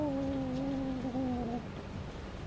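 A cat meows once in a long, drawn-out call that slides gently downward in pitch, fairly close and clear, then fades into quiet room tone.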